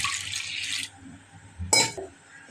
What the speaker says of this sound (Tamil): இப்போ தண்ணியை ஊற்றி அவிய போடணும்.